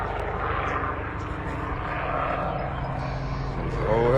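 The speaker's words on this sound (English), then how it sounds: "It's an old helicopter." Steady low engine drone of an old helicopter passing overhead, loud and continuous with a throbbing rotor pulse, swelling slightly near the end.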